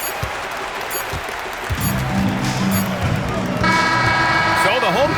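Home crowd cheering and applauding after a victory in an NBA 2K26 basketball game, a dense roar that swells louder toward the end and mixes with horn-like arena tones.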